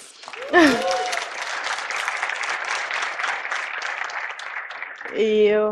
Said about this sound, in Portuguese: Palmas para Bia.